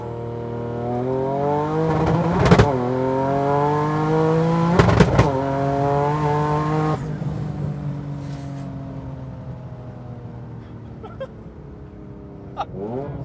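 Twin-turbo Nissan 350Z built to about 950 hp on pump gas, accelerating hard with rolling anti-lag; a loud rising engine drone is broken by sharp popping bursts near 2.5 and 5 seconds, then easing off with scattered crackles.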